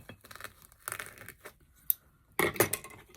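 Fabric scissors snipping through crinkly fake snow in a few short, uneven bursts, close and fairly quiet, with a louder crunch near the end.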